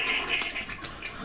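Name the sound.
toilet being flushed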